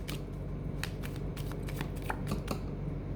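A deck of cards is shuffled for a card reading, a crisp, close flurry of rapid papery riffles and slaps that runs steadily without a break and with no voice over it.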